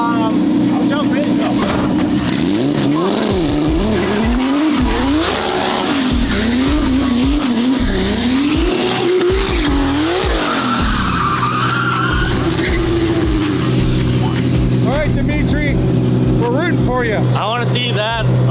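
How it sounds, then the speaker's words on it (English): A supercar on a sighting lap revs loudly, its engine pitch climbing and falling through repeated gear changes, with long tire squeals and skidding through the corners and people talking in the car. "I'm just gonna give Dimitri a little a sight lap so you kind of see."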